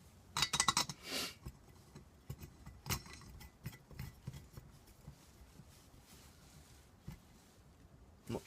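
Metal parts of a Jetboil Zip camping stove being handled and screwed together on a desktop, giving a burst of close clinks and clatter early on followed by sparse light taps and knocks.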